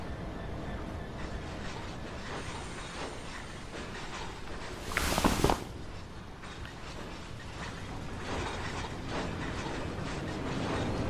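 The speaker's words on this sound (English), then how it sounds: "Ooh, there's a high speed train." A high speed train in the video game Train Sim World rushes past in a short, loud whoosh midway through, set against a steady rumble of rail noise with no talking.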